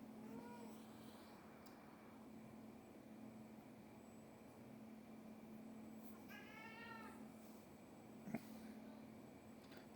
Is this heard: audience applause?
no